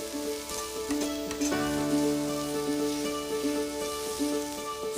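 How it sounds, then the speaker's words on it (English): Steady crackling sizzle of food cooking on a hot barbecue grill, continuous and fairly close, with a faint hum underneath. "You can hear, like, the sizzle is real."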